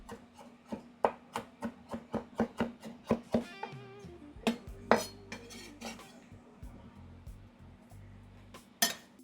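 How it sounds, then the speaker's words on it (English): Knife chopping salsa ingredients for homemade sweet and spicy salsa, a steady run of sharp, close chops on a cutting board with light clinks, pausing briefly midway before a few more strikes. "So I'm just gonna chop this up"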